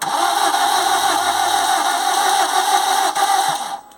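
A Vauxhall Corsa with a no-start fault cranks in one sustained, steady mechanical whirring burst, close and loud, then cuts off abruptly at the end.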